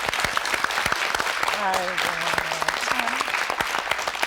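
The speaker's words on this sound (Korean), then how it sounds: "여러분 박수로 환영해 주십시오." A Korean television talk-show studio audience claps steadily throughout, a dense even applause that runs alone while a single voice calls out briefly in the middle.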